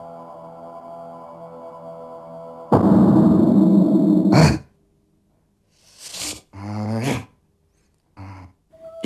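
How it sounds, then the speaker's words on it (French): A dog shakes itself off in a loud, flapping burst that lasts nearly two seconds, followed by a few short snorts and shuffling sounds. "J'aime mon chien quand il s'ébroue"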